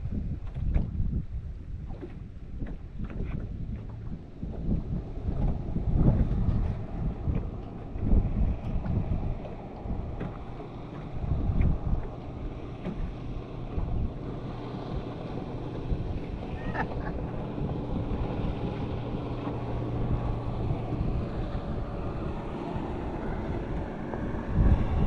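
A motorboat cruises past on Lake Guntersville, a steady low engine drone building and holding as it passes at moderate distance, with wind buffeting the microphone throughout.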